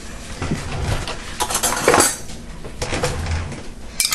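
Metal kitchen utensils clink and clatter as a spoon is grabbed from among them, a series of close, irregular rattles and clanks.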